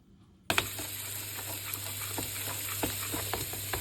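Potatoes drop into a pan of hot oil and at once start frying, a close, steady sizzle with bursts of crackling and popping that holds on after the first loud hiss.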